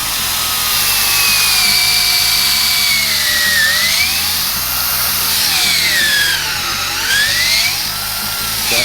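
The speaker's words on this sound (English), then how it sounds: "So when we put this screw in at a slight angle, it's going to just catch that rabbet." Power drill driving screws at an angle into wooden boat planks during a hull restoration, a loud continuous whirring motor with rising and falling pitch as the screws bite and tighten.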